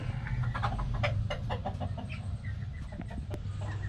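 Newborn baby chicks, freshly hatched in July summer weather, peep and cheep in a steady cluster of high, short chirps, close by, over a constant low background hum.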